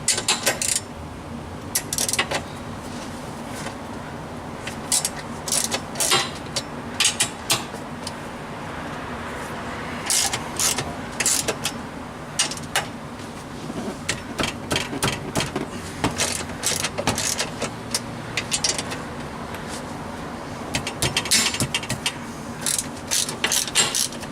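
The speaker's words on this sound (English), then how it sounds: "So these are the 4 bolts to hold the seat rail in, so we're just going to pop those off." A hand ratchet works loose the four seat rail bolts on a Yamaha YXZ, its pawl clicking in quick repeated bursts with brief pauses between strokes, close up and fairly loud over low background hum.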